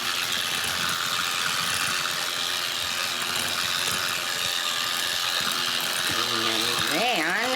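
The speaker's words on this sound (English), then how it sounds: "we are going to whip this up with our mixer here" An electric mixer whips green pepper dip in a bowl, a continuous loud whirring and rattling drone that shifts pitch near the end, with a voice faintly under it.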